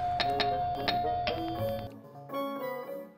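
Electronic doorbell chime at a house entrance, a short run of bright tonal dings that carry on into a softer descending melody, clear and close with no talk over it.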